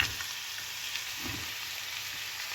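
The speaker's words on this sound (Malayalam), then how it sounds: "ചെറിയ ഉള്ളി ഒന്ന് നല്ലതായിട്ട് വഴന്ന് വന്നിട്ട് നമുക്ക് സവാള ഇട്ട് കൊടുക്കാം" Shallots and onions sauté in a pan for a Kerala-style duck roast, making a soft, even sizzle that stays fairly quiet and steady throughout, with no talking.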